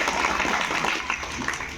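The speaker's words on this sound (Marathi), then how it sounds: "टाळ्या वाजून आपण त्यांचे आभार व्यक्त करूया" A school audience applauds at a Republic Day event to thank a donor, a steady wash of many hands clapping together at moderate volume, with no voices over it.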